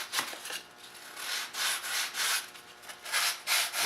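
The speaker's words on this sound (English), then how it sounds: "I have to sand it down just so it'll fit perfect" Sanding the foam edge of a scratchbuilt Normandy SR2 model hull, with steady rhythmic rubbing strokes that swell and fade, close and alone.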